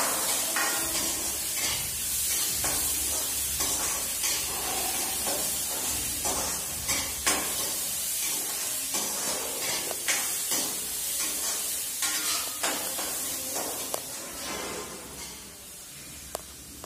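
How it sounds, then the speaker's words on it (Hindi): Potatoes for pakoras fry in hot oil, giving a steady broad sizzle and hiss with scattered pops and stirring clatter throughout, fairly close and without talk. "तो अभी हम जा रहे हैं पकौड़ा का आलू फ्राई करने।"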